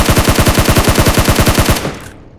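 Automatic gunfire from the battle royale game PUBG on the Erangel map rattles loud and close in a rapid, even burst of roughly twenty shots, then cuts off into a short fading tail.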